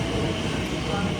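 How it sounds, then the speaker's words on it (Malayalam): A London District line train at a station, heard as a steady, loud broadband rumble of wheels and motors, with voices mixed in. "ട്രെയിനെത്തി."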